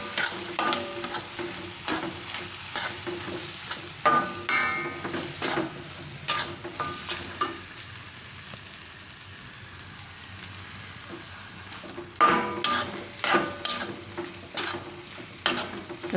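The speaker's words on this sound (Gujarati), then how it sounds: "તો તેલમાં લોટ એકદમ સરસ શેકાઈ જાય ડુંગળી ને ટમેટાં ભેગો." Flour roasting in oil with onion and tomato while being stirred for Gujarati spring-onion lotiyu, giving a steady soft sizzle broken by bursts of spoon scraping, quieter through the middle and busier near the end.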